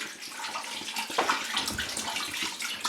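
Water pours steadily from a 16-ounce bottle into a pot, a continuous splashing gurgle up close.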